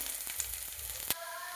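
Onion frying in a pan for a brinjal dish, a short burst of soft, steady sizzle with a few faint clicks and one sharper tap near the end, no voices.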